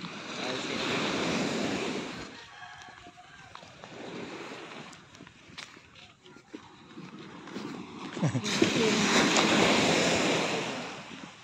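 Ocean surf rolling in, with broad washes of breaking waves rising and falling in two or three surges, mixed with wind noise on the microphone.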